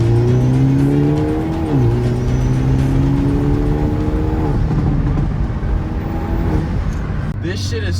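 Hyundai Elantra N fitted with a catless downpipe exhaust accelerating hard, a loud droning engine and exhaust note rising in pitch with a gear shift partway through, close and continuous.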